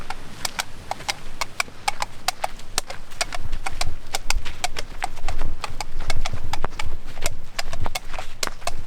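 Horse hooves clip-clopping in a steady walking rhythm, many sharp woody strikes close by, with low rumbling movement underneath and no talk.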